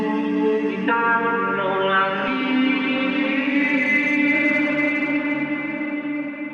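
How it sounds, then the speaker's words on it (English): A sustained sung vocal note drenched in heavy reverb, washing into a lingering echoing tail that slowly fades. "on this final hook in the vocal, I just increase the wetness of a reverb."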